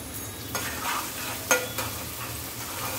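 Onions frying with a little salt in a pan for fish curry, a steady close sizzle with a few stirring scrapes and knocks.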